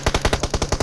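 Automatic gunfire rattles in a video game, about a dozen sharp, rapid shots in under a second. The burst is loud, close and even in rhythm.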